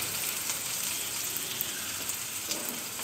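Amaranth leaves hit a hot pan of chana dal and sizzle steadily, a close, even frying hiss with faint crackles throughout.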